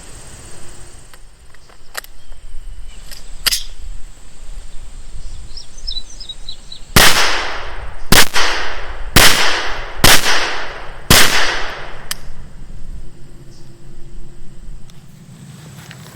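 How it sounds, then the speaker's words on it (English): Five sharp gunshots from a Sub2000 carbine fitted with an MCarbo optic mount, fired at targets 10 yards away, loud and evenly spaced about a second apart, with a few fainter clicks and handling sounds before them. "And those 5 shots from 10 yards are looking very good."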